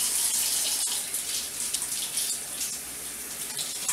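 Steady running tap water splashes and hisses as strawberries are rinsed in a kitchen sink, continuous and close with no talking.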